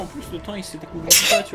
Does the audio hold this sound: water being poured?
no